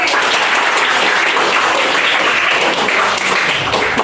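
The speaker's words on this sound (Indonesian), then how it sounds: "Tepuk tangan 7E." Classroom of 7E junior high students clapping together in sustained, loud, dense applause at close range, steady throughout without talk.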